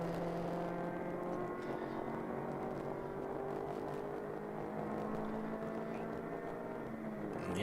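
A race car engine in a ChampCar endurance race at The Glen drones steadily as the throttle opens, a sustained mid-distance engine note with shifting pitch and no voices.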